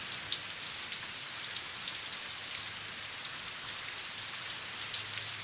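Steady rain during a summer thunderstorm in Colville patters evenly on surfaces outdoors, a dense continuous hiss with scattered drop taps, no voices.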